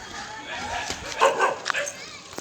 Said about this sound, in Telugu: కుక్కలు